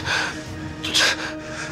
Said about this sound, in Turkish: Nefes alırken zorluyor.